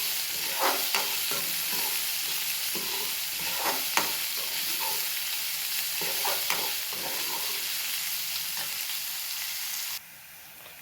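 Onions with curry leaves sautéing toward golden brown in a pan, giving a steady close sizzle broken by repeated scraping stirs, with the frying softening slightly near the end.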